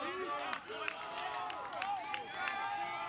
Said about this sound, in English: This is about the loudest the crowd has been all night long